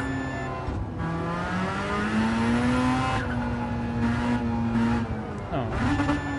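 Racing video game car revving hard with rising and falling engine pitch as it shifts, anti-lag pops and crackles between gears, fairly loud and continuous with a voice talking over it at times.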